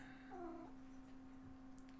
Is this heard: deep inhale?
no